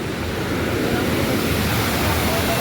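Water tumbles over a drop in a canal outdoors, a loud, steady broadband rush heard close by with no break. Faint voices may sit beneath the roar.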